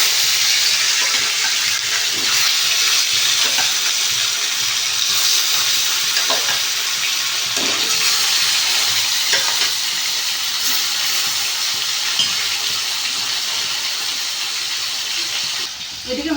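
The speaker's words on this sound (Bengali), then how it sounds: "তেলটা গরম হয়ে গেছে মাছগুলো একটা একটা করে ভেজে" Fish pieces fry in hot oil for a Bengali fish curry, a loud, continuous hissing sizzle close by with occasional sharper crackles and stirring clicks, and a voice talks faintly now and then.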